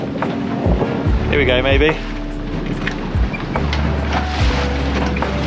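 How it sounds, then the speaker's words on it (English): A small sailboat takes big waves side on, with low thuds and sloshing under steady wind noise while someone speaks briefly. "when you got a big wave coming at you, you want to take it front on"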